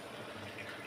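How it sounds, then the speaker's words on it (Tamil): Oil poured into a heated clay pot on a stove, a steady soft liquid trickle and faint sizzle heard close and quiet, alone for under a second. "எண்ணெய் ஊற்றிக்கிறேன்"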